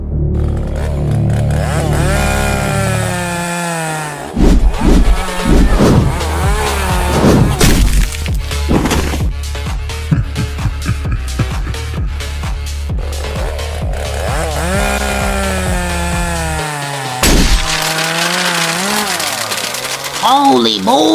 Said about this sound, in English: He picked up his chainsaw!